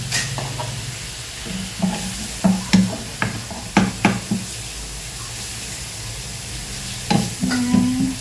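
Tortang talong frying in coconut oil, with a moderate steady sizzle beneath a series of distinct knocks and scrapes of a utensil against the pan, clustered in bursts with pauses between.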